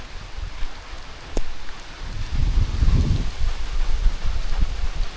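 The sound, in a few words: heavy rain on Mt. Romelo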